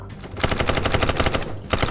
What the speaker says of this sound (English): How did you shoot through the tree?